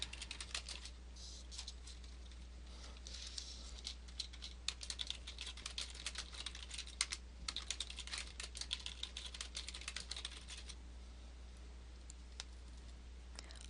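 Keys clatter on a computer keyboard as a report name is entered in office software, rapid close clicking in bursts over a steady low electrical hum, with no talking.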